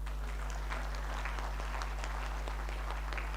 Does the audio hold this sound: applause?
yes